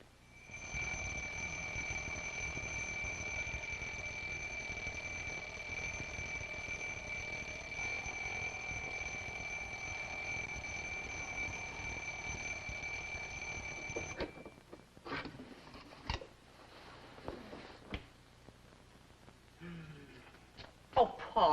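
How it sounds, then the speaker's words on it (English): A loud, steady electronic alarm clock rings for about fourteen seconds, a sustained high tone with a constant pulse, then cuts off abruptly, leaving quieter rustling and scattered knocks. "The alarm went off."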